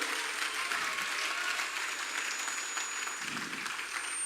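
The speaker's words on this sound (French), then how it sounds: "On acclame très très fort le Seigneur bien-aimé" A church congregation claps loudly and continuously for the Lord, dense sustained applause filling the room with no speech over it.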